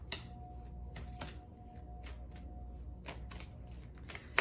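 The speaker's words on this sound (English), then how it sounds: "I'm going to pull a Moonology card" Moonology oracle cards are shuffled by hand, close up, with a run of quick crisp riffling snaps and slaps over about four seconds and no talking.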